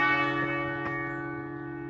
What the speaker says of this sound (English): Those bells that you hear